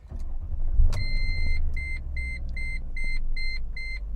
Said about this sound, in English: And we'll fire up this naturally aspirated V8, 362 horsepower.